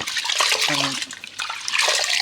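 Something being washed by hand in water, rinsed through two or three changes: splashing and sloshing come in uneven bursts, close and fairly loud, with a short gurgling moment in the middle.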